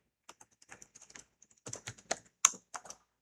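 Typing on a computer keyboard while writing Java code: irregular quiet clicks and clusters of keystrokes, close and alone without speech.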